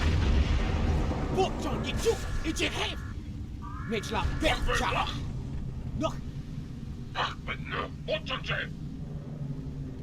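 Weapons fire booms and pops through a space battle in the Star Trek Online video game, with bursts of blasts under steady character dialogue and game ambience.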